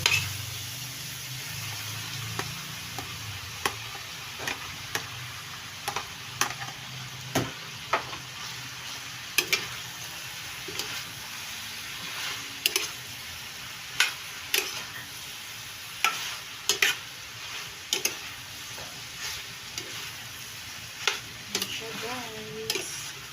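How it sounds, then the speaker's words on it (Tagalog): A hotdog sizzles and spatters as it fries in a pan, with a steady hiss broken by sharp intermittent ticks and pops from the cooking, and a voice speaking now and then. "Sizzling hotdog"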